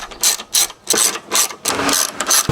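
Ratchet wrench loosening the 13mm strut tower bolts on a BMW E36, a close, loud series of rapid clicking bursts in short repeated strokes with brief pauses between them, no talking.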